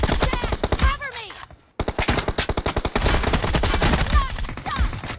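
Dense, rapid automatic gunfire and bursts from a video game battle, loud and continuous, broken by a brief near-silent gap, with game voice callouts mixed in.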